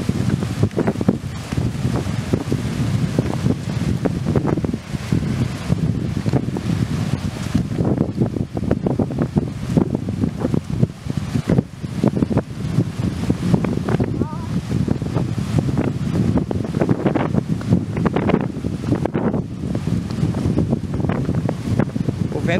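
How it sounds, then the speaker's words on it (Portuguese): A strong seaside wind buffets the microphone in continuous loud rumbling gusts, with possible surf beneath it and no clear voices. "O vento tá aumentando aqui."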